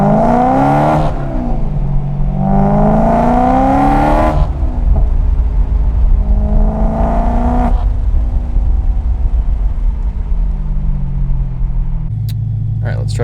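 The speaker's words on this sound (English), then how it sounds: "we're just gonna do a basic drive here and see what we got." A BMW M3 with a burble tune is driven on the road. The engine rises and falls through several gear pulls with a steady rumble and whir underneath, loud and close throughout, ending in a lower idle-like drone.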